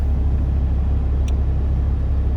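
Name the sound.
Toyota driving on an Arctic winter ice road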